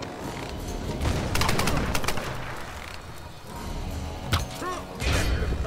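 Gunfire in the video game Tomb Raider 2013 multiplayer, team deathmatch: bursts of rapid shots with thuds and ricochet-like pings set against a busy ambient backdrop, moderately loud and without talking.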